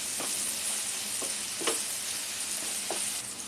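Ginger garlic paste mixed with a little coriander sizzles steadily in a hot pan, a continuous bright hiss broken by a few soft stirring scrapes, close and alone with no talk.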